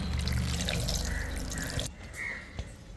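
Water poured while preparing vada batter in a home kitchen, a steady close splashing flow that stops partway, followed by a few faint drips and light clinks.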